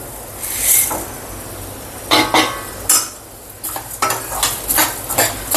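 Cumin, coriander seeds, urad dal and chana dal tossed into a pan with already-roasted peanuts and dry-roasted, giving a soft sizzle broken by several sharp scraping stirs that cluster toward the end.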